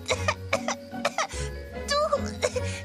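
Several short, harsh coughs in quick bursts, mixed with a voice speaking nearby over a low background hum.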